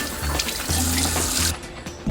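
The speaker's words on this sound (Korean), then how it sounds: "얼굴에 꼼꼼히 문지르고 흐르는 물에 충분히 씻어냈습니다" Tap water running into a sink while a face is rinsed after washing with a foaming cleanser, a steady close splashing stream with shifting gurgles, thinning out briefly near the end.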